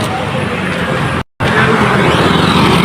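A vehicle rumbles along a night road near Bhubaneswar, its broad engine and tyre noise loud and close, briefly cut by a moment of silence before continuing.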